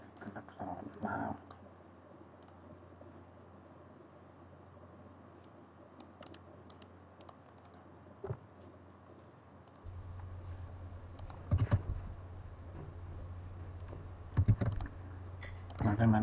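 Keys are typed on a computer keyboard in scattered clicks and short bursts, close and fairly quiet, with a low background hum joining partway through.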